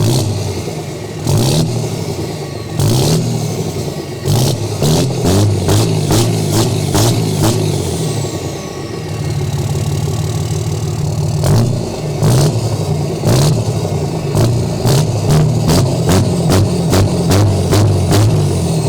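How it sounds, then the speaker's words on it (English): A Cummins dually diesel truck with a massive smoke stack is revved hard several times up close, each rev a loud, roaring burst between rumbling idle stretches. "Why don't we hit a couple revs?"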